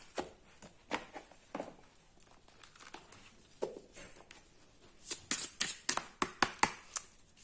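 Tarot cards being handled and drawn, soft scattered rustles and flicks early on, then a quick run of sharper card snaps and riffles near the end, close and faint.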